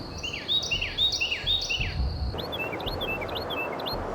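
Carolina wren song in the Skyrim video game rings out as a repeated series of bright, rolling whistled phrases, clear and fairly close, over a steady hiss of forest ambience with faint chirps.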